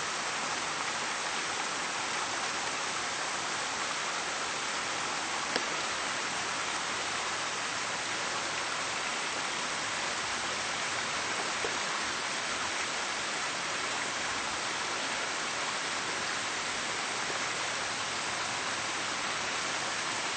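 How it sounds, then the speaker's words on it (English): Crest Creek flows in a constant, even rush of water that stays at one level throughout, with no voices over it. "Ah, Crest Creek, what a beautiful spot. What a beautiful little creek."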